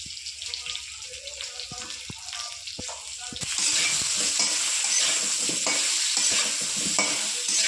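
Brinjal frying in a pan: an ongoing broadband sizzle that grows louder and denser halfway through, with occasional stirring scrapes and no talk.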